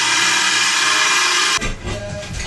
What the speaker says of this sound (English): drill in at a slight angle.